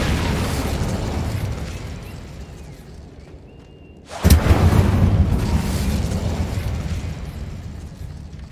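An Incendio fire spell in the video game Hogwarts Legacy erupts in a sudden loud burst midway, rising out of a fading roar and followed by a sustained rumbling blaze.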